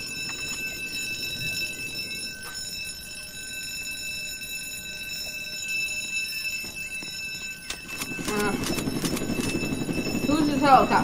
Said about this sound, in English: Who's this helicopter?